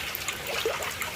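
Water runs steadily into a fish nursery tank holding fingerlings, a continuous close trickle and splash with no voices.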